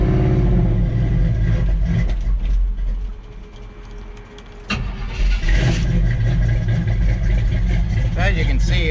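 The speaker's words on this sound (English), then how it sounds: "first I'll get the truck going here" A 1986 GMC utility bed truck cranks and fires, its engine catching, settling into a rough idle, then revving again up close, with someone talking over it.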